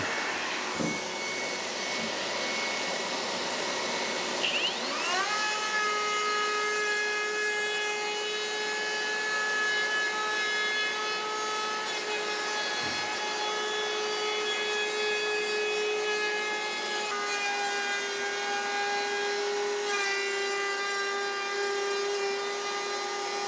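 A New Trend T18S cordless router cutting a round-over profile in wood makes a steady, loud high-pitched whine. It spins up after a few seconds, holds a continuous tone with slight pitch shifts as the bit bites, and plays alone with no talk.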